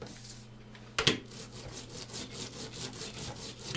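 A rolling pin is rolled back and forth over an ingredient to crush it fine, giving a rhythmic, gritty rubbing and crunching that repeats quickly and close by after one sharp knock.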